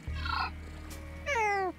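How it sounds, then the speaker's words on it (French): A catfish creature in a video game gives two drawn-out, purring snore-like calls over a steady low hum, close and clear with a short pause between them. "C'est à la fois quelqu'un qui ronfle et à la fois un chat."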